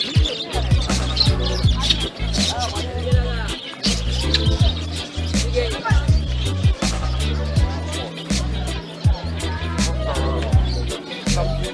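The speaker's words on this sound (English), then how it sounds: "Here there are some different kinds of birds." Assorted birds chirping and cooing amid the bustle of a pet market on Galiff Street in Kolkata, with busy background noise and irregular thumps running beneath the calls.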